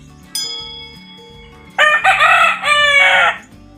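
A five-month-old red Kelso rooster crows once, loud and close, in a long strained call, followed by an earlier short cluck-like sound and steady background noise; no talk.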